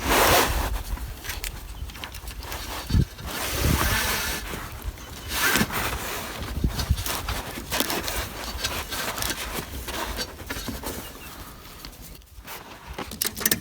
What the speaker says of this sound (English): Just tightening the bag and securing it on the roof properly.